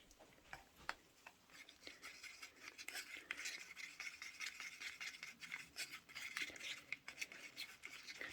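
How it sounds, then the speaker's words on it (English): A stick stirs warm, setting resin in a bowl, giving a steady run of close scraping and scratchy rubbing strokes with small clicks, continuous and fairly quiet with no talking. "get a good stir"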